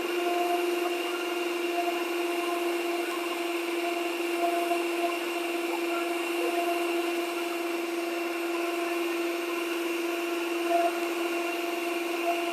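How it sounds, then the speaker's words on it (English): Electric stand mixer running at its lowest speed, folding flour into banana and raspberry bread batter, a steady even motor hum with a constant tonal whine, close and continuous with no talk. "Put the mixer onto the lowest speed and just start folding the flour mixture in."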